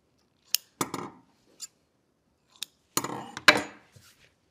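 Scissors snip thread tails off a sewn puzzle ball piece after it comes out of the sewing machine, with several crisp metallic clicks and snips close by, scattered over a few seconds with quiet gaps between.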